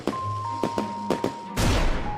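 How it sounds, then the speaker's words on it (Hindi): Diwali firecrackers burst at night in a sharp series of close, loud cracks, four quick pops followed by a bigger, longer bang, with a faint steady tone running underneath. "सब मिलकर खुशी खुशी पटाखे फोड़ने लगे"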